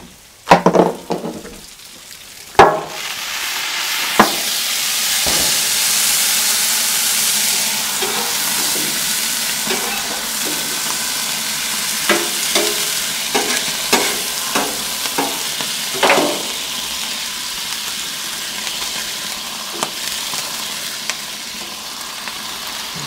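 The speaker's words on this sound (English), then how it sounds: "you gotta steam them up a little bit." McDonald's-style McGriddle sausage steaming and sizzling on a Blackstone griddle, a loud dense hiss of frying and steam after a few sharp clanks, with occasional scraping and tapping over the steady sizzle.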